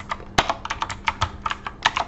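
Close, quick clatter of keys as text is typed on a computer keyboard, a fast irregular run of clicks with no talking.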